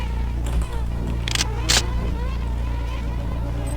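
Bees buzz in System Shock 2, a steady insect drone that swells in a couple of brief louder passes as they fly near, over a low, constant game ambience.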